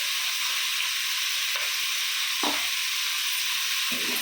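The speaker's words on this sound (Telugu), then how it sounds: "ఇవమ్మా కరేపాకు వేసేస్తాను" Curry leaves hit hot oil for sambar, raising a loud, steady hissing sizzle with a few brief sputters and pops, and no talking.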